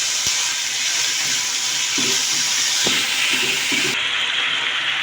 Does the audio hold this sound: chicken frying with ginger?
yes